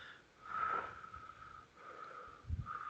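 A voice imitates pursed-lip breathing, the labored pattern seen in chronic breathing difficulty: a couple of slow, airy, wheezy breaths pushed out through narrowed lips, close and fairly quiet.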